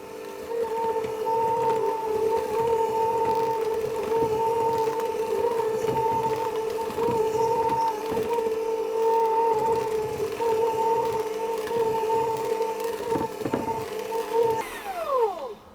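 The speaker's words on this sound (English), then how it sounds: "on a low speed, I'm simply going to mix that until it starts to clump together" Electric mixer running on low speed through tart dough, a steady droning motor hum with rhythmic knocks and clatter as the dough clumps, winding down at the end.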